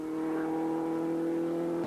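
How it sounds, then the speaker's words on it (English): WRC or Group A rally car on a stage of the 2004 Tipperary Stonethrowers Rally, heard as a steady, moderately distant engine drone holding a constant pitch with no talk. "Noel Redmond is having a drive of his life"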